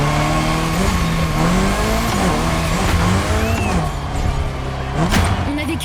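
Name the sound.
Mitsubishi Lancer Evo 6 engine and tyres drifting at Maui airport, The Crew Motorfest video game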